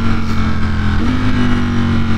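A 2020 Ducati Streetfighter V4 with an ECU flash tune pulls hard under acceleration, its loud, close engine drone steady and rising in pitch through a smooth gear shift.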